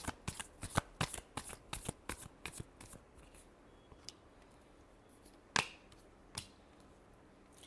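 Tarot cards are shuffled by hand in a quick run of crisp, papery riffles and snaps, close and fairly quiet, then a few scattered flicks after a pause.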